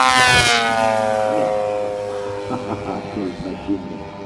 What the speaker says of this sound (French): un atterrissage remarquable, volet atterrissage pour faire chuter la vitesse de la machine